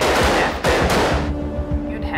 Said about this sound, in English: Recruits spend hours on the firing range.